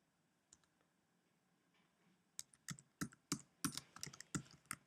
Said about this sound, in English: So I'm going to start here, and I'm going to type